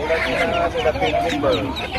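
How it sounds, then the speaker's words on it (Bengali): Chinese ducklings at a busy open-air bird market give a dense, continuous chorus of overlapping high peeps and chirps, close by, with crowd murmur underneath. "আর এটা কি হাঁসের বাচ্চা ভাই চীনা হাঁসের বাচ্চা"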